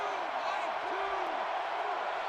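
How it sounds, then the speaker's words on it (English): Home crowd at a Notre Dame Fighting Irish football game, a steady broad roar of cheering fans in a stadium, with a commentator talking over it. "You hear the home crowd here trying to cheer on the Fighting Irish."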